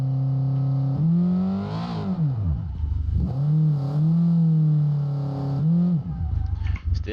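Toyota AE86 drag car engine revs hard on nitrous, loud and close, with repeated rising and falling pulls and a brief drop between bursts, the tone climbing steeply before each lift-off.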